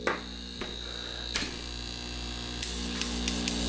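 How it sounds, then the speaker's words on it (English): A Mr. Linear airbrush compressor runs with a constant low electric hum and buzz beneath a few faint clicks and handling taps, then a soft hiss of spraying air comes in toward the end, with no talking. "So I have my Mr. Linear compressor"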